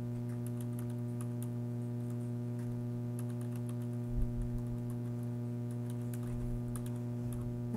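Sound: typing on a computer keyboard

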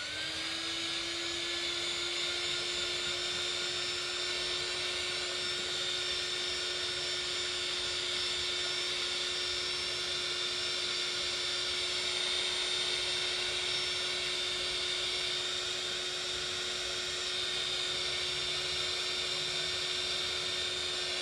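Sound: hair dryer drying a painted art background

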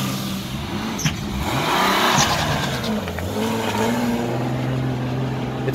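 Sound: BMW E36 325i with DCT gearbox accelerating away

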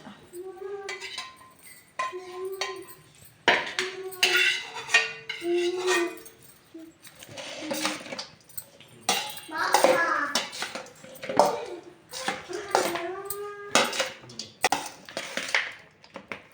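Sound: cooked rice being mixed in a vessel for pulihora

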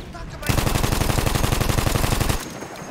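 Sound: Annihilator gun firing in the video game Battlefield 1

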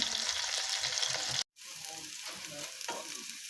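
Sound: onions and green chilies frying in a pan

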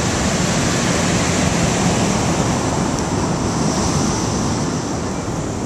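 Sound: ocean waves breaking on a black sand beach

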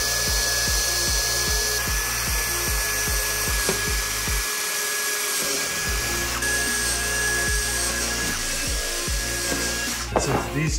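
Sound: power drill drilling dimples in body panel

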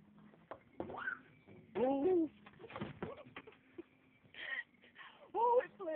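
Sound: birds trapped in a greenhouse

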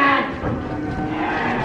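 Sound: cows mooing

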